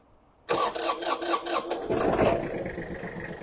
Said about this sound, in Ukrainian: Витискаємо щеплення, заводимо трактор.